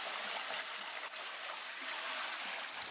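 Workers mixing soil from eastern Gaza with water into mud in a wash tub at a pottery workshop: a steady, close trickling and sloshing of water, continuous and fairly even, with no talk.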